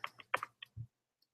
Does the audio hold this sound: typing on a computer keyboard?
yes